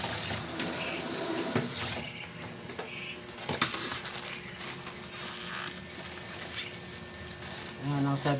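Tap water pours steadily into a container in a constant rushing stream, close and continuous, as water is added for salting duck eggs; a brief clink sounds near the end.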